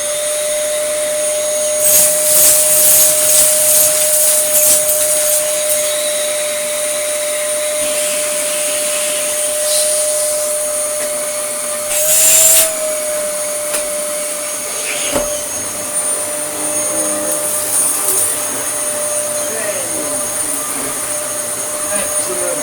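A Dyson DC07 vacuum cleaner runs in hose mode with a steady, loud motor drone and a high whine held throughout, with brief surges as the hose is moved.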